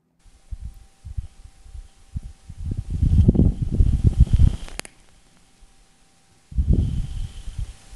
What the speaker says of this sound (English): This is the sound of a Martian dust devil